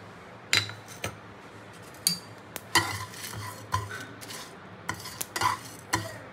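Spices dry-roasting in a pan while being stirred, a run of sharp metallic scrapes and clinks at irregular intervals over a faint crackle, close up with no one talking.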